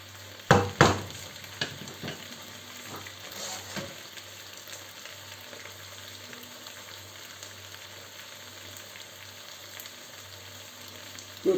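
Beef frying in a pan, cooked apart from the noodles: a steady, fairly soft sizzle throughout, with a few louder clatters and stirring knocks near the start and again at the very end.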